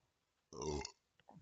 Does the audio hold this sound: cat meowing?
no